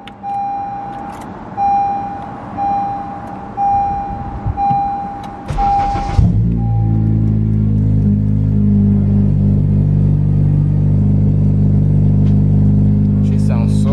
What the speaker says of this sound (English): All right, so start up the car.